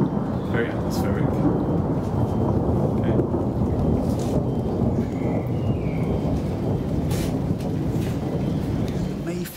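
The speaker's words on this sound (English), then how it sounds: "You can hear the thunder there, very atmospheric." Low thunder rumbles steadily outside an old English pub, blended with rain and wind noise, a continuous deep roll with a few brighter crackles, moderately distant and without speech.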